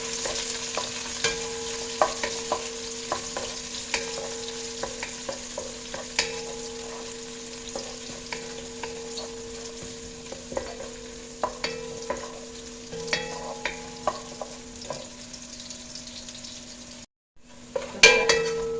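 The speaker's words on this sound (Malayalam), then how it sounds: "വെളുത്തുള്ളി, ഇഞ്ചി, പച്ചമുളകും കൂടെ നന്നായിട്ട് വഴറ്റിയെടുക്കാം" Garlic, ginger and green chilies sautéing in a pan, a steady soft sizzle broken by regular clinks and scrapes of a spoon stirring, with no talking.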